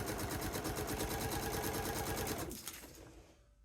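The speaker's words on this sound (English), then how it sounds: "I am just sewing the fabric together without any paper foundation." Sewing machine stitching fabric strips together without a paper foundation for scrappy half-square triangle quilt blocks, a fast steady buzzing run for about two and a half seconds before stopping and trailing off.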